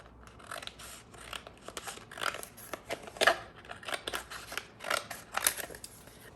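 Scissors cutting holographic vinyl sheet from a roll: a series of crisp, close snips and slicing rasps at an uneven rhythm, quiet and without talk.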